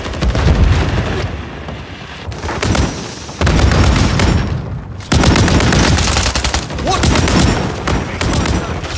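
Stun grenade blast and heavy automatic gunfire in Call of Duty Modern Warfare 3 multiplayer, with loud continuous rattling bursts, booms and short lulls throughout.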